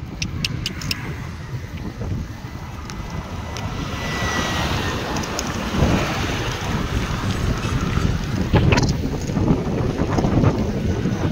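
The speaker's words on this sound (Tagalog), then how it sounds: "Lakas ng hangin!" Heavy wind roars across the microphone of a cyclist riding, in continuous gusts, loud and buffeting, with a few brief clicks and rattles near the start.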